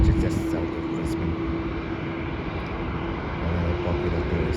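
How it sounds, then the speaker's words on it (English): A Virgin Australia Boeing 737 heading for the Gold Coast roars steadily with a broad jet engine rumble and a sustained tonal hum, loud and continuous with slight swells in intensity. "That is a Virgin Australia plane, Boeing 737, that will be going to the Gold Coast"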